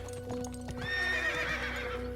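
Horse in a video game giving a long, clear neigh after a few clip-clop hoof sounds, heard over a steady background hum.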